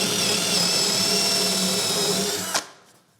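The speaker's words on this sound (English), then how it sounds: "I'm going to drill through the bearer." A power drill whines at high speed for a few seconds while drilling through a wooden workbench bearer, then cuts off abruptly and spins down.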